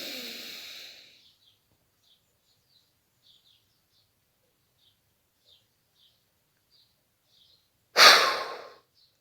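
A single deep, breathy exhale opens during a sophrology karate exercise, followed by near silence with faint chirps, then a sharp, loud breath near the end.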